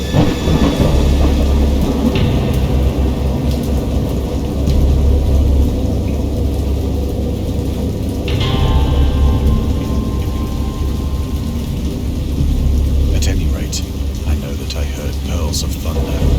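Heavy rain hisses steadily while low thunder rumbles and rolls throughout, with a few sharper crackles near the end.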